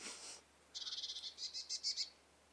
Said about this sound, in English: The birds has started to sing, some of them.